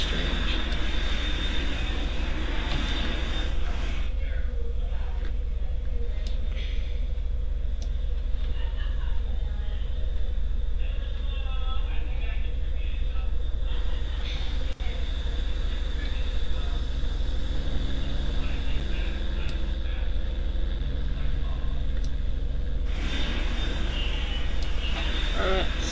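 Simulated airliner taxiing in a flight simulator game, a steady broadband engine hum and rumble that holds for the whole stretch, with faint tonal shifts and light talk underneath in places.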